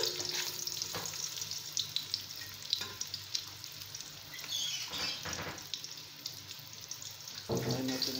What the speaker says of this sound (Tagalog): Pag nagigisa tayo, unahin natin ang sibuyas.